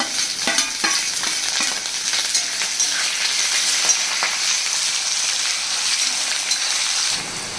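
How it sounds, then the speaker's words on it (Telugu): Chopped onions and green chillies hiss and sizzle loudly in hot oil in a pan that already holds curry leaves, a steady bright crackle with a few soft stirring knocks, cutting off abruptly near the end. "ఇప్పుడు మనం కట్ చేసి పెట్టుకున్న ఉల్లిపాయలు పచ్చిమిరపాయలు వేసేసుకోవాలి"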